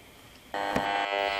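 A steady electronic buzz from a newer DECT 6.0 cordless phone base station switches on abruptly, holding a harsh droning tone with a brief click partway through, fairly faint.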